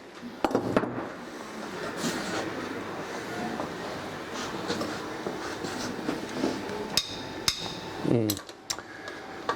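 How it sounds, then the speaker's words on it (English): A cylinder head comes loose during a teardown of a BMW V10 engine: sharp metallic clinks and a few abrupt cracking knocks ring out in a workshop, with a louder snap-like burst near the end. "The head did release, you heard it then, it released."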